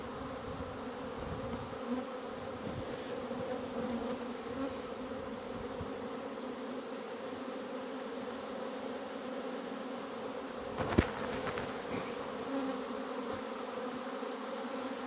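Honey bees from a late-summer hive swarm in a dense, steady buzz after their frames are shaken out, a close continuous drone with one brief sharp knock partway through.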